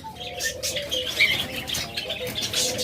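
Caged pet lovebirds, a double-factor breeding pair, call in quick shrill chirps and chatters, close and fairly loud, with other birds adding busy background twittering.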